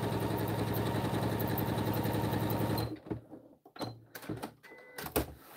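A sewing machine runs fast and steady, stitching down a diagonal zippered pouch at stitch length 4. Its rapid, even needle chatter holds loud and close for nearly three seconds, then stops, leaving faint handling clicks and rustles.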